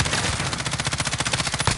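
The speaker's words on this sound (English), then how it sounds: "It's the M13, so I'm trying to upgrade that gun, so I'm using it" Rapid automatic fire from the M13 in Call of Duty, a dense, steady burst of rounds for nearly two seconds, loud and continuous with no talking.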